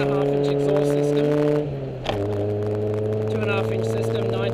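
1986 Toyota Corolla AE82 Twincam four-cylinder idling with a 2.5-inch exhaust, 421 extractors and a Varex muffler switched open, a steady loud drone with a brief dip and blip partway through.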